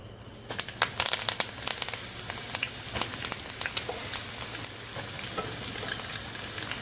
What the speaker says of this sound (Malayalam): അപ്പൊ കറിവേപ്പില നമ്മൾ കോരി വറുത്ത് പോരും കേട്ടോ.